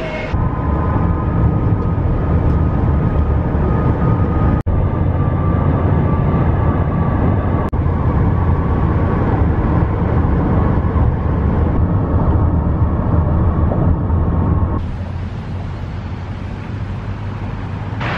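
A 2017 Mercedes E300 driving along, heard from inside the cabin as a steady, loud road and engine rumble with wind noise. Near the end the sound eases into a lower, softer hum.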